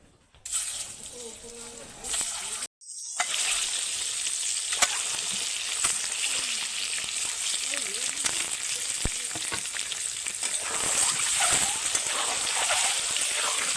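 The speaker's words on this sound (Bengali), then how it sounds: "ডিমগুলোকে খুব সুন্দর লাল লাল করে ভেজে নেব, যাতে ডিমগুলোর গায়ে বেসনটা ভালোভাবে লেগে যায়।" Boiled eggs coated in gram flour batter deep-frying in hot oil, a steady dense sizzle with a brief break early on, then continuous crackling and faint bubbling throughout.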